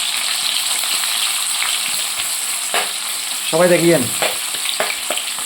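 Onions sizzle steadily as they fry in a pan for a fish curry with potato and eggplant, a constant close hiss with a few stirring scrapes and a brief louder burst midway; a voice speaks briefly.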